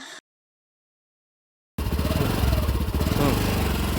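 A motorcycle on a wet mud village road bursts into loud, close engine noise after a silent gap, then runs with a steady, slightly throbbing drone.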